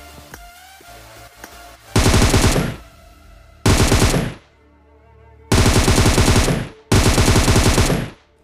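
Bursts of automatic gunfire in the mobile battle-royale game PUBG Mobile, four loud rapid-fire volleys each lasting about a second, separated by quieter game ambience with no talking.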